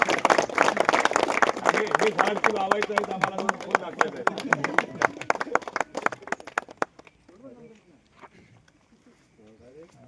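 Villagers in Ratnagiri applauding loudly at a ceremony marking five years of a bus service, dense rapid clapping for about seven seconds that then fades out, with someone speaking over it.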